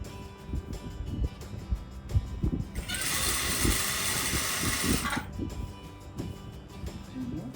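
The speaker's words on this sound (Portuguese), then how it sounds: "E eu vou passar uma costura aqui acompanhando o tecido." Domestic sewing machine running a straight seam along the edge of a cotton tea towel fabric, following the weave near a frayed edge; a steady whirring burst of about two seconds sits in the middle, with quiet handling noises before and after.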